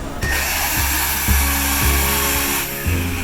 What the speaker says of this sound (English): So I'm going to take my polisher, there's a little bit of wax on this, and I'm going to hit this.